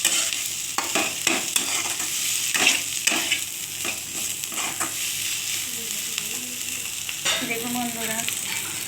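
Prawns frying in a pan with tomato paste and ginger, a continuous close sizzle broken by repeated stirring clatter, with a voice briefly speaking over it.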